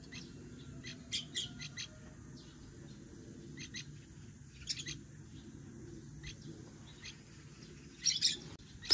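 Small birds near the spot where boiled eggs are left out give short, high chirps in scattered bursts over a quiet outdoor background, faint to moderate, with a louder cluster of calls near the end.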